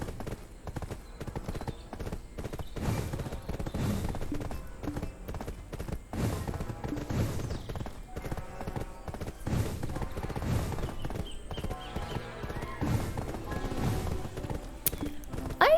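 Horse hooves clip-clop steadily in the Black Desert Online video game, a continuous rhythmic trotting beat mixed with busy game sounds and background noise throughout.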